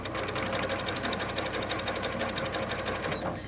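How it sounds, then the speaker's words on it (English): A sewing machine stitches a quilt block, running at a fast, steady, even rhythm of needle strokes close up for several seconds before easing off at the end. "And I'm going to sew."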